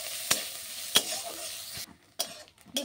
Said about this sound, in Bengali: এরপর আমি ভেজে নিব নারকোল কুচি।